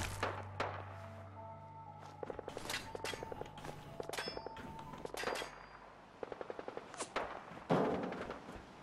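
Gunfire in Fallout 4 Far Harbor: bursts of rapid automatic shots and single cracks scattered across the stretch, fairly loud and close, mixed with thuds and footsteps.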